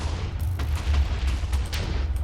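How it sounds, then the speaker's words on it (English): TNT cannons firing in a Minecraft competitive match, a rapid scatter of dull booms and sharp cracks overlapping across a low rumble, moderately loud and continuous, no voices. "Meanwhile, diagonal cannons coming from USNZ."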